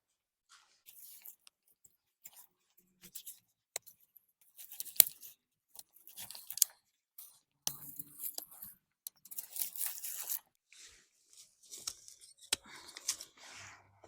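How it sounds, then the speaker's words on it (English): Sage plants being cut back in a home garden during cleanup, giving soft intermittent snips and crisp crunching of stems at close range, with short pauses between cuts and a little quiet talk. "let's just cut back some of the sage"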